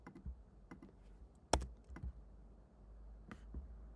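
A computer keyboard is pressed in a few scattered taps, sharp isolated clicks with one louder strike, heard close up in a quiet room with no talking.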